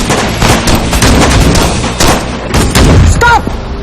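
Loud bursts of gunfire in a short action film, several sharp shots and rapid volleys in quick succession, with a brief tonal sound near the end.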